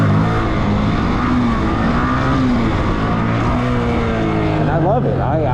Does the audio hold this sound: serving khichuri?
no